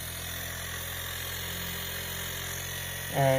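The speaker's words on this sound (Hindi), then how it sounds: "तो दोस्तों देखिए, अभी कंप्रेसर की स्पीड आप खुद सुन सकते हैं।" A Samsung double-door fridge compressor runs as a faint, steady electrical hum, then a louder, higher buzzing tone swells in right at the end as its speed increases.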